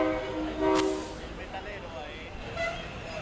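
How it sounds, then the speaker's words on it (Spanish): A passing train sounds a long horn blast, then rumbles on in the background of an outdoor Copa Chile football match in Chile, with a commentator talking over it. "Qué lindo el sonido del tren."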